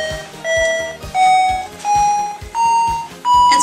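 A computer alarm from a BASIC program beeps in a repeating pattern, six loud tonal bursts, each slightly higher in pitch, sounding close and insistent.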